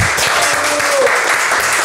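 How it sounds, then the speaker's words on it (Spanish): Studio audience applause on a Spanish-language sports talk show, a steady, loud wash of clapping that fills the whole moment with no pause. "Un aplauso, mi gente."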